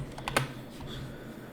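Computer keyboard keys tapped in a brief burst of a few quick clicks, with one louder keystroke near the middle, close by and alone with no talking.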